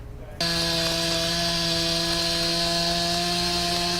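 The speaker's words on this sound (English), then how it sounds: "The sound of chainsaws could be heard across the island" A chainsaw cutting hurricane storm debris in Puerto Rico starts abruptly and drones steadily at a constant high pitch, loud and close, with no talking.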